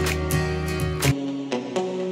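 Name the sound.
muted guitar sampler patch in Cubase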